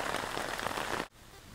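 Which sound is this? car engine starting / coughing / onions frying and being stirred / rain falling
rain falling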